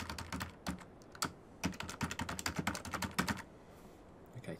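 Someone types a password on a computer keyboard in bursts of quick, close key clicks with brief pauses between them, and no voices.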